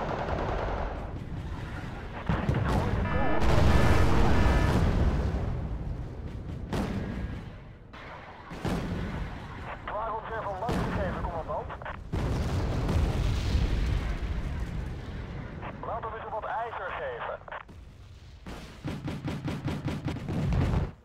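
Mortar fire in Wargame: Red Dragon, a long run of heavy booming blasts mixed with rattling gunfire, loud and dense, coming in waves with short lulls between them.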